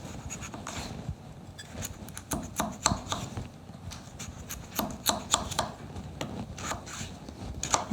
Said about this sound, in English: All right, so we're gonna cut up this potato.